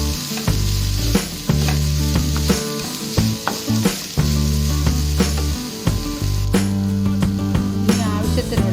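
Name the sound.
urad dal and chana dal frying in oil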